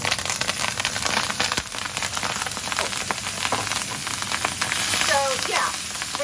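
Brussels sprouts sizzle and crackle in hot bacon fat and oil, a steady, dense frying hiss with scattered pops running throughout, close and fairly loud.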